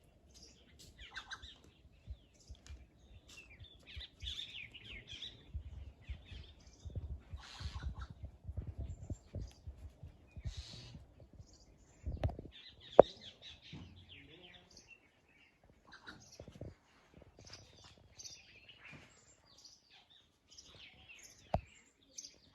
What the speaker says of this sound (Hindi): चलो, एकदम शांति वाला माहौल बना के आपको यहाँ पे चिड़ियों की आवाज़ सुनाते हैं।